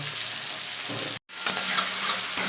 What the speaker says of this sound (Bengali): টমেটোগুলো ভালো করে এর মধ্যে একটু ভাজা ভাজা করে নেব